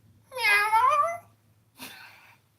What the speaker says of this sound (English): You know how a cat says hello, Kitty?